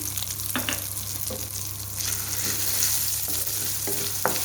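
Turmeric and fennel seeds frying in hot oil for a dal puri filling, a steady close sizzle broken by several clinking stirs of a utensil against the pan, no voices.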